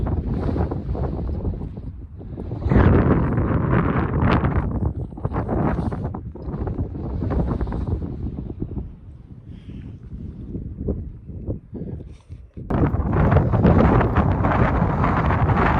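Strong wind buffeting the microphone on a hillside at Mam Tor, loud roaring gusts that swell and drop, with a brief lull before a powerful final blast.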